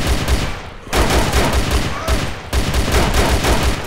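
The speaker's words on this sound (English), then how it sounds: "He's shooting like hell." Dense, loud gunfire from the DayZ Mod Overpoch video game roars without a break as rapid automatic bursts, close and overwhelming, with no talk heard over it.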